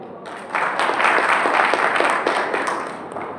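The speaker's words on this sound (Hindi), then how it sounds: "इन लाइनों को सुनकर तालियां बजा रहे हो।" Crowd applause at a public political gathering, a Muslim conference in Talegaon, Wardha district, swelling from near silence into steady dense clapping that holds, then eases slightly near the end.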